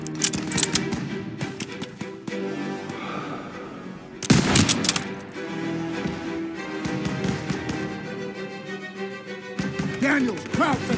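Rapid machine-gun bursts and scattered rifle shots in a WWII video game battle, loud and close, with a heavy blast partway through and shouted voices in the mix.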